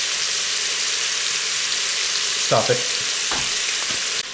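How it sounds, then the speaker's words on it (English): Beef searing in an Instant Pot for beef stroganoff, a dense, steady sizzle close up, with a brief spoken phrase partway through. "So I'm going to sear this until it gets a nice browning on each side"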